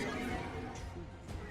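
A horse in the video game Warframe: The Duviri Paradox gives a short, clear neigh, with faint hoof clatter and a light trace of background game sound.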